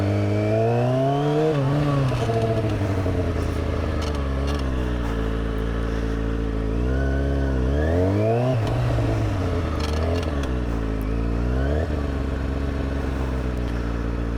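A motorcycle engine revs hard and continuously as the throttle is opened, pitch rising and falling in repeated surges over a steady close, loud drone.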